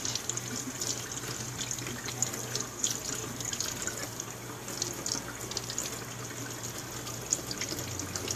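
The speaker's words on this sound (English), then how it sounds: "Lather that end up nice, and rinse it all out." A makeup brush rinsed under a running tap, with a steady hiss of flowing water and faint splashing into a sink, fairly quiet and continuous.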